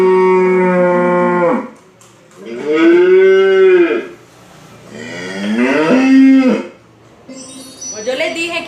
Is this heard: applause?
no